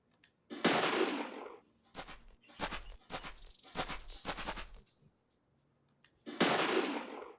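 Police pistol shots from the video game Deadly Premonition, a loud burst of several sharp cracks in quick succession with short gaps, followed by another isolated shot at the end.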